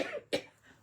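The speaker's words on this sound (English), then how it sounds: "I do still have a bit of a cough, but not much" A single sharp cough from a person with a lingering cough, close and fairly loud, standing alone after a moment of quiet with no talking.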